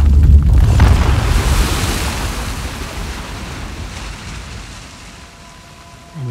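Rushing water in the video game Uncharted: The Lost Legacy roars in with a loud broadband surge that gradually fades to a softer, steady wash.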